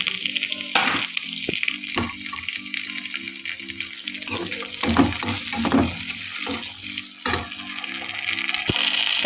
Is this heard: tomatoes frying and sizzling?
yes